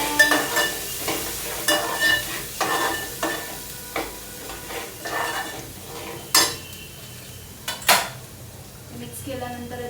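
Spoon stirring a masala mix of Malvani masala and a pinch of coriander powder in a pan, giving soft scraping strokes with occasional sharper clinks against the metal, close by and moderately loud.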